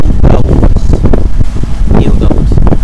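A strong headwind at sea buffets the microphone aboard a sailing yacht, a loud, constant gusting roar with muffled voices beneath it.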